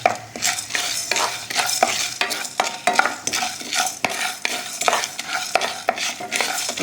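Chana dal and fenugreek seeds are stirred and fried in a pan for temple-style puliyodharai (pulikachal), with a spoon scraping in a repeated rhythm over a continuous close sizzle and no talking.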